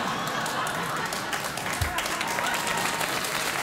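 Studio audience at a late-night talk show applauding, a continuous wash of clapping from a full crowd, steady in level for the whole stretch.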